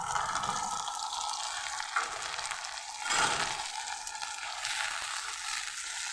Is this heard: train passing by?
no